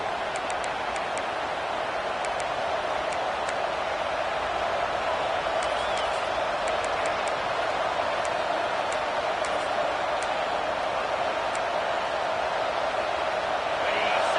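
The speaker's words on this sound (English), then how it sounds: "this home crowd is fired up and ready to make a difference today" Home crowd at a college football game, Texas playing the UFL, roaring as one steady, dense wash of cheering throughout, with scattered claps and faint voices mixed in.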